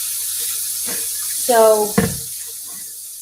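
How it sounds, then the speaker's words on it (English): A kitchen sink tap opens with a brief squeaky whine and a knock, and water begins running over a steady background hiss. A voice speaks a single short word. "I'm going to turn the water on."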